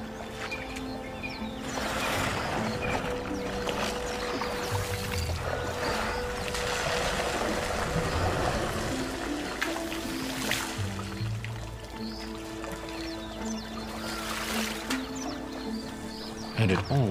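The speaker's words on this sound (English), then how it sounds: "But nothing soothes an elephant like a trip to water." An elephant splashing and wading in water, with repeated sloshing and dripping bursts over a steady watery background, moderately close, with occasional bird calls and tonal sounds mixed in.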